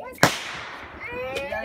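A Fourth of July firework bursts with one sharp, loud crack, then a drawn-out hiss and crackle, with faint whistling tones and another soft pop near the end while people talk over it.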